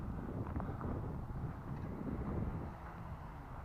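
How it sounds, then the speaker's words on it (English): Wind blows outdoors, buffeting the microphone with a steady low rumble that lasts the whole moment without pause. "Right, wind."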